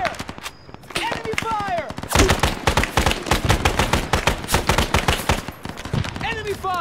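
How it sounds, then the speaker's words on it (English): Enemy gunfire in the ArmA military shooter during a defense of a camp: fast, loud automatic bursts and rapid single shots crackling close by, mixed with shouted voices. "Under fire! Enemy"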